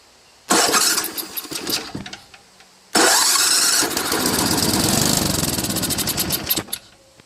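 Snowblower engine being cranked after a starting-fluid spray, two loud pull-start bursts of sputtering, chugging rotation, the second longer, without catching into a steady run.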